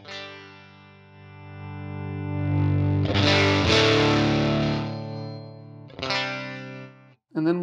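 Electric guitar played through a UAFX Woodrow 55 amp pedal: sustained distorted chords ring out with chorus-like shimmer, swell louder midway, then a short strum and a final brief stab after a pause.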